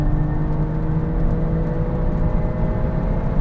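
An Alfa Romeo Stelvio Quadrifoglio accelerates hard off a brake-boosted launch, its engine a dense, steady roar with a buzzing whine riding on top, close and continuous throughout.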